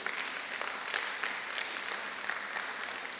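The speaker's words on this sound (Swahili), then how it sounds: "piga makofi kwa Yesu kwa sababu ya mwanaume." A church congregation claps in steady, dense applause throughout, a continuous wash of many hands with no voices rising above it.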